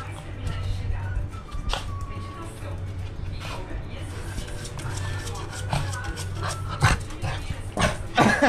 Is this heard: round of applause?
no